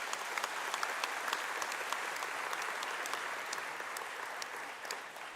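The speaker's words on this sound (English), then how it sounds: "I think they deserve a round of applause." An audience at an investment conference applauds the police with a steady round of clapping. The sound is dense and fairly distant, with a few sharper individual claps and a slight fade at the end.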